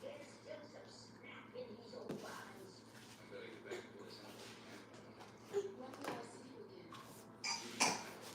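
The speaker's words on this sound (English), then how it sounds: "Don't be coughing like that, please." A few short coughs break through a noisy indoor background, with muffled voices and clatter around them; the loudest cough comes near the end.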